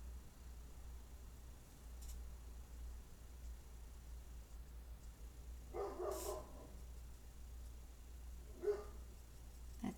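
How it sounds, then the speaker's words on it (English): A neighboring dog barks in the distance, with two faint short bursts of barking over a steady low hum and no talk. "That's my neighbor's dog."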